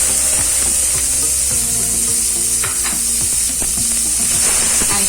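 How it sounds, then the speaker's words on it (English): Chopped onions sizzle loudly in hot oil in a pan, a steady, close, bright frying hiss that runs unbroken from start to finish, with a few soft scrapes and bubbling pops beneath it and no voices. "When the oil gets heated, add chopped onions."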